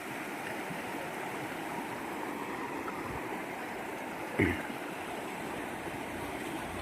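A flooded river rushes past in a steady, full wash of moving water, constant throughout with one brief knock partway through and no talking.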